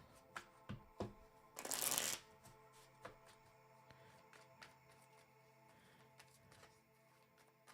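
A deck of playing cards is shuffled once in a quick riffle, with a burst of fluttering card snaps among scattered soft taps and handling sounds, close and fairly quiet, with no talking.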